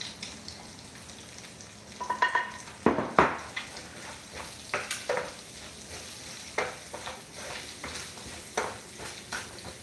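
Egg and rice frying in a pan, with a steady soft sizzle under scattered scrapes and clicks of stirring, fairly close and quiet, with no one talking.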